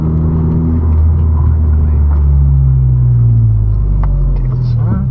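A 2017 Honda Civic Si accelerates off the line, its engine note rising as a steady, loud in-cabin rumble, with voices talking over it.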